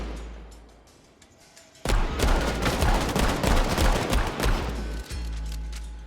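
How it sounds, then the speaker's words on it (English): Gunfire from the mobile game Gangstar New Orleans breaks out after a quiet stretch, a loud, rapid volley of shots and bursts lasting several seconds before settling into a steadier rumble. "let's go tap on this guy and start shooting at him"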